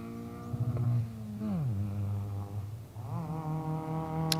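A rally car's engine on a 2024 stage course, its pitch sliding down and then climbing again as it revs through gear changes while passing, fairly loud and alone.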